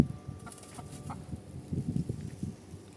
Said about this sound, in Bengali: কিছু মোরগ মুরগি আছে আমাদের এখানে।